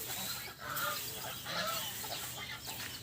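Chickens near a cattle pen call on a cold morning, giving repeated clucks and honk-like cries over a steady outdoor background at moderate distance.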